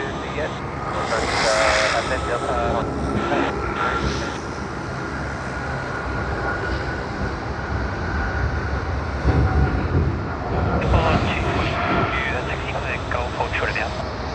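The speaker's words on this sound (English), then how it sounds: "Boeing 747-8 of UPS, Sydney to Singapore service." A UPS Boeing 747-8 freighter departing Sydney Airport, heavily loaded with fuel and cargo, gives a steady broadband jet roar that swells and holds throughout, with voices talking over it.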